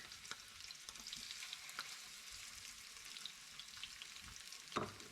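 Orata fish frying in oil in a pan, a steady hiss of sizzling with a few soft stirring clicks, moderately close and alone with no talk.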